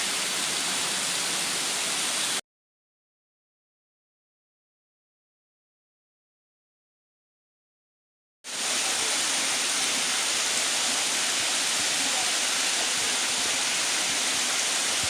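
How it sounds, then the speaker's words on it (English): Waterfall at Bunkum Cave near Byrdstown, Tennessee, heard from the trail close to the falls: a steady, dense roar of rushing water that cuts out abruptly into several seconds of silence, then returns just as loud. "This is standing directly above the waterfall."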